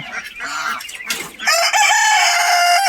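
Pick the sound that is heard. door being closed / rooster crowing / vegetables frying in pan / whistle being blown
rooster crowing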